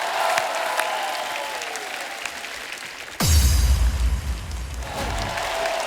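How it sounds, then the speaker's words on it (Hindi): Studio audience on a Hindi TV comedy show bursts into loud applause for new dance talent, a sudden swell of clapping and crowd noise that sustains and stays strong after an earlier stretch of chatter. "एक बार जोरदार तालियों से स्वागत कीजिए नए टैलेंट का।"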